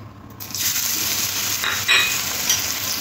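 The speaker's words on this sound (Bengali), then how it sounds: "তেলটা গরম হয়ে আসলে এখানে দিয়ে দেবো 2খানা কাঁচা লঙ্কা আর একটু আদা থেতো করা আছে" Two green chillies and crushed ginger drop into hot oil in a kadai for cauliflower chops, and a loud, steady sizzle swells after a brief quiet start and holds close and continuous.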